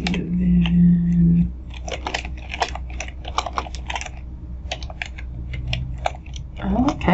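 Fast, irregular keystrokes on a computer keyboard, close and crisp, patter continuously for several seconds, with a brief voice-like hum at the start and end.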